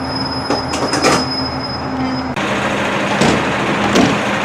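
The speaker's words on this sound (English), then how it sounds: "There goes our train." A train pulls out of the station at Caerphilly, loud and close, its wheels squealing and rumbling steadily with bursts of screech as the carriages roll past, and no voices.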